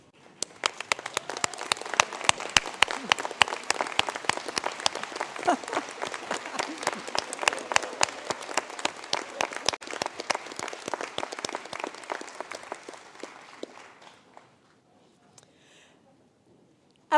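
Graduates at a university conferring ceremony give a long round of applause to their supporters, dense clapping from a large crowd that carries steadily, then thins out and fades to near silence.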